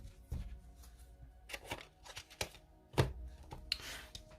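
Tarot cards are handled and drawn in a quiet room, with scattered soft card flicks, slaps and rustles in an irregular rhythm.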